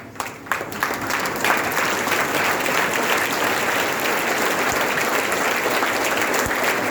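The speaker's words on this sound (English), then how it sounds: "So definitely we can give a standing applause for that." A college audience gives a standing round of applause during a B.A. English class event, sustained dense clapping from many hands filling the room at steady loudness, with a few sharper claps at the start.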